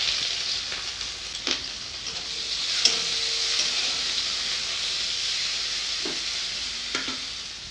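Onion and chilli fry in hot oil with black cumin and dried red chillies, a steady close sizzle running throughout with a few brief stirring clinks and no talk.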